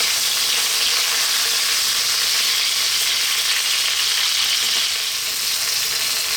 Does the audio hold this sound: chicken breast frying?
yes